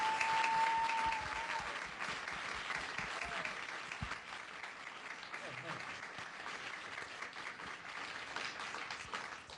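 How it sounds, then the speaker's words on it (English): A NASA audience gives a big round of applause to welcome back the hybrid spacesuit engineers, a full crowd clapping continuously for several seconds, with a brief tone at the start and faint voices underneath. "with a big hand of applause, we're going to welcome back our spacesuit engineers"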